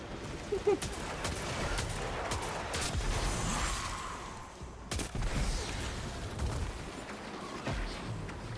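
Video game gunfire in a snowy setting: bursts of shots and booming reports clatter in rapid clusters amid other game noise, with a voice murmuring faintly underneath.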